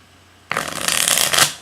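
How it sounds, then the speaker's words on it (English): A dragon tarot deck is shuffled, a sudden close burst of riffling card sound that starts after a brief quiet moment and builds for about a second. "I'll show some shuffling here."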